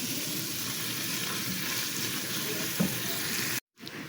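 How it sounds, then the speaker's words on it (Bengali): Shrimp fries in a pan with onion, garlic and green chili. A close, continuous sizzle sputters evenly, with a soft knock near the end before the sound cuts out briefly, and no talking. "এটা একটু ভেজে নিব, ভাজা ভাজা করে তারপর লাল শাকটা দিয়ে দিব"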